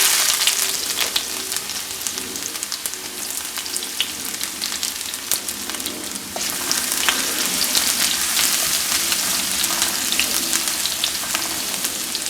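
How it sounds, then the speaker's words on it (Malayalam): Garlic and ginger fry in sunflower oil in a pan while pasta is being prepared, giving a steady, dense crackling sizzle with scattered pops that holds evenly throughout without talk. "നമുക്കിതിലേക്ക് ഇനി വെളുത്തുള്ളിയും ഇഞ്ചിയും കൂടെ ഇടാം."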